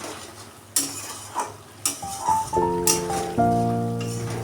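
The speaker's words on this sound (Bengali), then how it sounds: "হলুদ কষে একদম তেল ছাড়বে মশলা থেকে" Turmeric masala sautéing in oil for a Bhola fish curry, with steady sizzling and a spoon scraping and stirring the pan in a few distinct strokes, close by and without speech.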